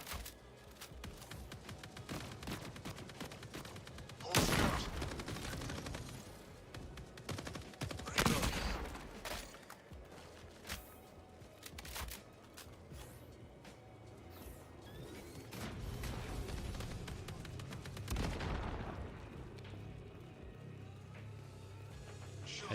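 Gunfire in the Marathon video game: bursts of shots with several sharp, loud blasts rising over dense, busy game noise and mechanical clatter across the clip.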